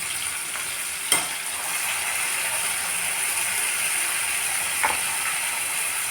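Ginger garlic paste frying with mutton in a pan gives off a steady, close sizzle that stays even throughout, broken by a couple of faint clicks from a utensil.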